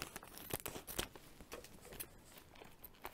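Scissors cut the wicket off a plastic cotton candy bag, giving faint, close rustling and crinkling of thin plastic with a few small snips and crackles through the clip.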